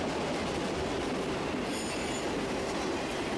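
A Conrail autorack freight train rushes past at about 60 mph on the water level route near Vermilion, Ohio, a dense, continuous rumble of rolling cars with wheel squeal and rhythmic clatter close by.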